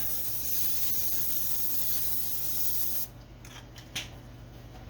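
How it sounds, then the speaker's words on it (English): A cooking spray hisses in a steady, close burst for about three seconds, then stops, followed by a few faint clicks and light handling sounds. "And then I have my non-stick spray here"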